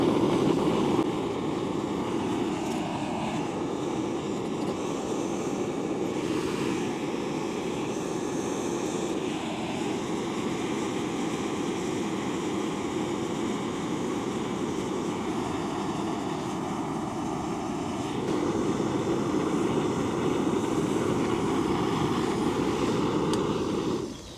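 A Jetboil gas camping stove roars steadily under a Firemaple Petrel 600ml pot as water heats to a rolling boil, a loud continuous rushing hiss with slight swells and no voices.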